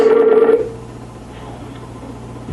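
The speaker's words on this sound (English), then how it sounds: "Let me try calling Doug" A telephone rings as someone places a call on a talk show, one loud ring tone at the start, then a quiet line hum.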